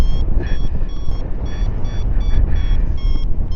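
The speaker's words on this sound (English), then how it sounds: "All I hear are beeps, baby!" A paragliding flight instrument beeps in quick repeated high-pitched pulses during launch, several short tones in a steady rhythm over rumbling wind noise on the microphone.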